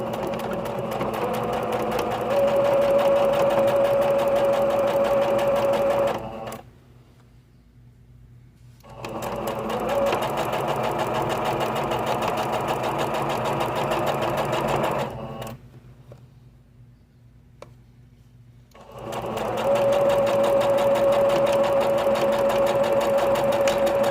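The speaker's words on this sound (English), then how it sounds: "You're going to sew along those lines that you made, and the back stitch on both edges," A sewing machine stitches fabric in three bursts of several seconds each, a busy close mechanical whir and rattle separated by short near-silent pauses, with backstitching along seam lines.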